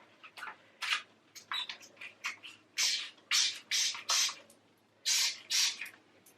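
Clorox Foamer bathroom cleaner spray bottle fires about a dozen short, crisp hissing bursts in irregular quick succession, close and clear against a quiet room.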